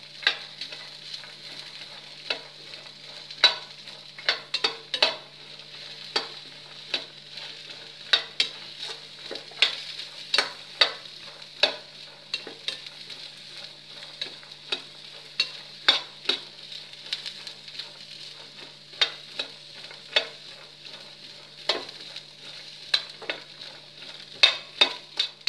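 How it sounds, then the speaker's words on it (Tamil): Green beans stir-fry in hot oil with a steady soft sizzle, punctuated by regular clinks and scrapes of a stirring spoon against the pan, close and without talk. "நான் 2-3 நிமிஷம் நல்லா வணக்கிட்டேன் எண்ணெயில்."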